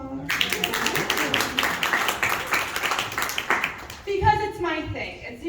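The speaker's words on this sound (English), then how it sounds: "Pause for applause." Audience clapping and applauding at a stand-up comedy show, a dense burst of applause lasting several seconds before it fades and a voice takes over.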